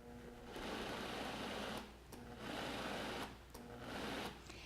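A food processor pulses a thick, sticky raw jalapeño onion cornbread mixture in three bursts of loud motor whir, each lasting about a second or more and separated by brief pauses.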